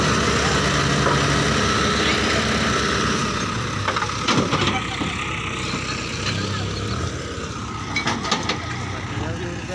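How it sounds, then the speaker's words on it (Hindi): A tractor engine rumbles steadily in the background, with a few brief sharper knocks and rattles on top and a voice speaking at times. "ट्रैक्टर आ रहा है भाई अभी।"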